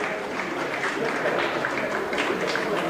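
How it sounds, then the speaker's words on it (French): A crowd applauds steadily at the opening ceremony of a jazz festival in Saint-Louis, with dense, continuous clapping at moderate distance and a few voices underneath. "Des applaudissements pour cette décoration"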